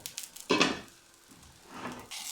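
Rfissa filling cooking in a pan, sizzling and frying in short bursts with stirring noises between them, moderately close and with no talk.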